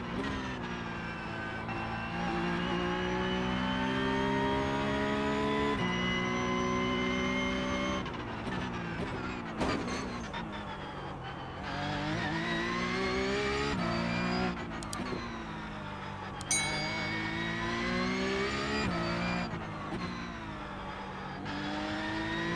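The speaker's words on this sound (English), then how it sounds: "Try and tuck the car into the left here." Race car engine from the iRacing sim racing game, driven on track: a continuous loud engine tone rising and falling through gear shifts and revs, with brief drops on braking and no talk.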